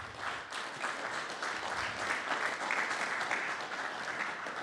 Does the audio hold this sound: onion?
no